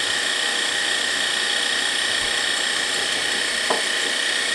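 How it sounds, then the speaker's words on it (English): Nuts being ground into small pieces for apricot and nut horn filling, a dense continuous grinding whir throughout with a brief knock near the end. "you can grind your nuts to whatever consistency you might like"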